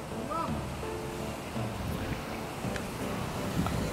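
A park water fountain splashes in a steady, continuous wash, fairly close and constant, with faint voices and wind mixed into the background.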